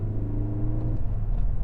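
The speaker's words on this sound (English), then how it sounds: "intake symposer, which makes the intake noise come through the cabin, which I kind of like." Intake roar of a 2016 Ford Focus ST accelerating in third gear, a steady rumbling drone heard from inside the cabin, brief and continuous.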